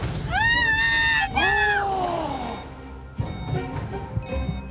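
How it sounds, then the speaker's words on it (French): Two long, drawn-out cat meows in quick succession, loud and close, followed by softer rustling and small clicks. "Mon premier fait miaou."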